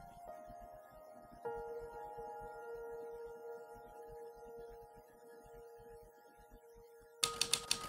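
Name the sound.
typewriter typing in video game The Novelist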